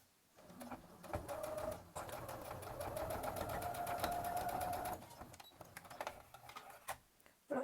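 A sewing machine stitching fabric for an Easter bunny's overalls runs in a steady whirring stretch of a few seconds, then slows into intermittent stitches. It is close and moderately loud, with no speech.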